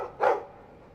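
One short, mid-pitched dog bark from the video game Dragon Age 2, close and clear, followed by quiet ambience.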